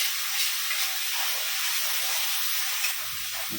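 Masala fries in oil for a village-style chicken curry, giving a continuous bright sizzling hiss with faint low knocks near the end.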